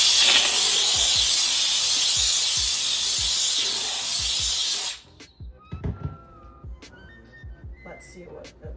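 A Bissell Steam Shot handheld steam cleaner hisses loudly and steadily on a stove for about five seconds, then cuts off, leaving quieter clicks, taps and brief faint voices.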